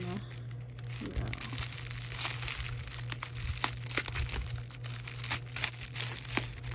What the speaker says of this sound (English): I have a feeling I'm cutting a bag of something